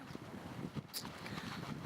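Tent fabric flaps and rattles in strong, cold wind beside a mountain lake in the foothills of the Chikhachev Range, gusty low rumbling with quick fluttering snaps, close to the microphone and with no voices.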